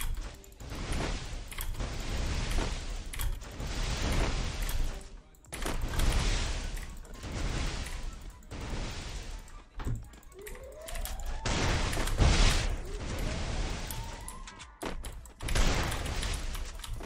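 Gunfire from a first-person shooter video game comes in repeated loud bursts of rapid automatic shots separated by short gaps, with softer thumps and mechanical clatter between volleys.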